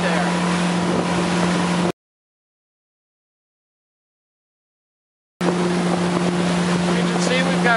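A Sea Swirl 21 Cuddy Cabin Fisher boat cruises at about 2,800 RPM, its outboard drone steady and loud with wind and water rush, cut by a stretch of silence midway before the same engine roar resumes.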